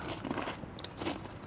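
Someone bites and chews a homemade game-day recipe dish up close, giving a few soft crunches, with no talking over them.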